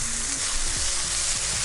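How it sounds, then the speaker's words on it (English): Eggs hiss and sizzle loudly in a hot pan while being scrambled, a dense close frying crackle with soft scraping stirs of a utensil against the pan, no talking. "scrambling everything together real quick and easy. Like, I'm not worrying about doing it in another container or anything, just right in the pan."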